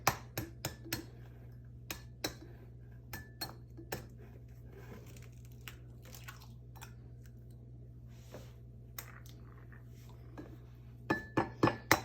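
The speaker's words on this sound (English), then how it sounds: "do you want to break those eggs and give them a bit of a mix?" Two eggs cracked into a bowl and mixed for carrot cake in a home kitchen, heard as sharp clinks and taps against the bowl, quiet and scattered with bursts of rapid tapping near the end.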